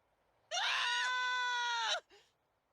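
A loud, sustained scream of about a second and a half rings out from the direction of a house in the video game Duet Night Abyss, harsh and strained, then breaks off with a short trailing gasp.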